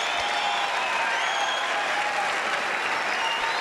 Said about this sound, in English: He's never had a crowd at a match clapping like this, Safwat